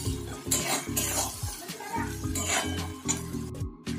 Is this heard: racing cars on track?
no